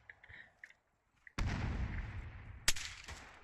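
An M203 grenade launcher fires in the Arma 3 battlefield game: one heavy close blast with a long rumbling tail, then a second sharp report, after a few faint clicks and quiet radio chatter.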